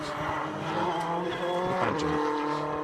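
A Subaru Justy rally car at an asphalt rally stage, its engine revving loud and close as it drives past with rising and falling pitch, and a voice faint beneath it.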